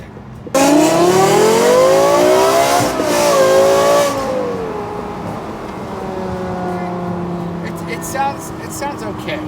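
A straight-piped Lexus LFA bursts into a loud, close rev that rises and holds at a piercing pitch, drops away after a few seconds, and settles into a lumpy, rumbling idle with faint pops toward the end.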